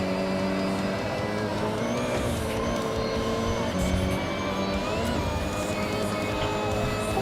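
Continuous car engine drone with shifting revs during a race, steady and fairly loud throughout with a V8 character, other traffic blending in the background and no talking.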